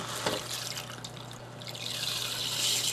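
Wild rice pours into a pot of liquid on the stove, giving a soft trickling, splashing patter against a steady background hum that swells slightly toward the end.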